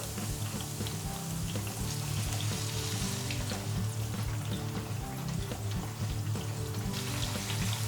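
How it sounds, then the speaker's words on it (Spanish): Vegetable broth poured into a pan of sizzling vegetable moussaka filling, giving a loud, steady, dense frying crackle with a hiss that lasts throughout, and no talking. "Y ahora le incorporamos el caldo de verduras."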